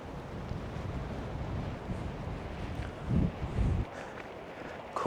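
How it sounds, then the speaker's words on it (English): Coastal wind at Lantic Bay buffets the microphone in a steady low rumble with a few stronger gusts, faint and close, with no other clear sounds. "Too windy."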